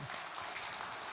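A church congregation applauds quietly at a Sunday afternoon service, a soft, continuous wash of distant clapping.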